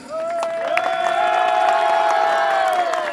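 Audience at a comedy show cheering loudly, with a sustained, rising shouted tone held for about three seconds.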